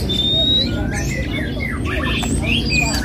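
A caged songbird at a bird kiosk gives sharp, high squawking calls and chirps scattered over steady shop noise, with quiet background chatter.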